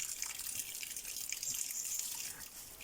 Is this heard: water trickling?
yes